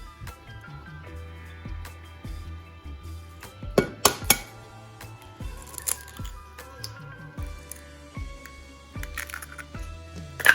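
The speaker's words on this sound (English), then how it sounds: "let's crack the first egg" An egg is cracked against a bowl and dropped into cake batter for a sprinkle cake, giving a few sharp close clicks and taps followed by soft wet squishes, with quiet clinks of a glass bowl and utensils.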